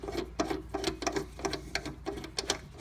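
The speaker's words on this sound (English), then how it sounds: "the drive motor on this is kind of loud" A welder's wire drive motor runs loudly with a fast, rhythmic mechanical clatter and whir, steady and close, with no one speaking.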